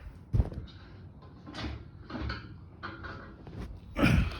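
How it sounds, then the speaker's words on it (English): A Buick 215 aluminum V8 engine is flipped over on a bench. Dull clunks and thumps are heard, with a sharper knock near the start and another at the end, plus quieter shuffling handling noise between them. "I'm going to put the camera down and flip the motor over"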